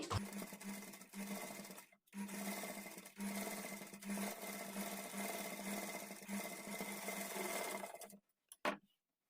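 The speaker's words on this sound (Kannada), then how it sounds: "ನಾನಿಲ್ಲಿ ಸ್ಟಿಚ್ ಮಾಡಿ ತೋರಿಸ್ತೀನಿ ಈ ಕಡೆ ಎಜ್ಜಿಗೆ ಸ್ಟಿಚ್ ಮಾಡ್ಕೊಳ್ಳಿ" Close sewing machine top-stitching beside piping on fabric, running in long steady whirring bursts with a rapid needle beat, pausing briefly near two seconds, then stopping just past eight seconds with a short final burst.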